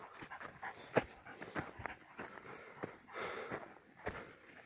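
A dog pants hard with quick rhythmic breaths and sniffs nearby while out on a walk in wild-animal territory, moderately loud and close with no speech over it.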